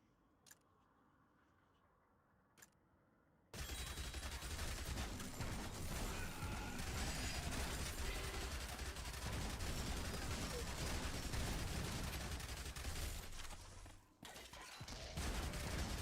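Dense, continuous gunfire from Yet Another Zombie Survivors, a video game shooter, rattling loudly for several seconds after a quiet start with a couple of isolated clicks, briefly dipping before resuming.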